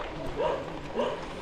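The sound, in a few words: dogs barking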